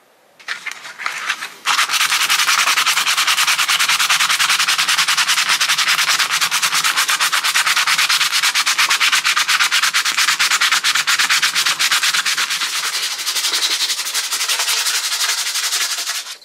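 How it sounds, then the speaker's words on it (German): Coarse 60-grit sandpaper rubs steadily over the wooden handle of an Opinel No. 09 Carbone folding knife, a loud, continuous scratchy sanding that starts after a brief quieter pause and runs without break. "dann nehme ich mir jetzt hier 60er Schmirgelpapier, mal gucken, ob das grob genug ist und schleife den ganzen Griff mal schön ab"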